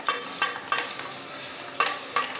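Spoon stirring and mixing ingredients in a pan, a series of sharp scraping strokes at an uneven rhythm, close and fairly quiet, with no voices.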